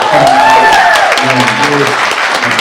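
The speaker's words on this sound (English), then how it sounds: "we get one more round of applause for you guys" Audience applause at a Transformers panel at Las Vegas Toycon 2020, a crowd clapping steadily while a voice talks over it.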